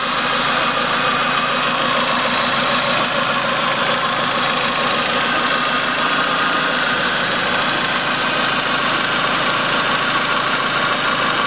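A car engine idling steadily after a fresh set of spark plugs, a continuous mid-pitched running hum with a light rhythmic knock throughout, close and fairly loud with no talk.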